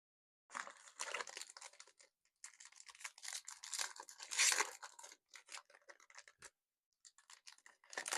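Magic: The Gathering Lorwyn Eclipsed booster packs being torn open by hand, close foil wrappers ripping and crinkling in quick bursts separated by short pauses.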